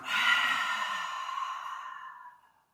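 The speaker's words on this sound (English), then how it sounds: "we take a breath in, pause the breath, exhale through the mouth" One long breath released through the mouth, a close, breathy airy exhale that starts strong and fades to silence over a couple of seconds, with no talking.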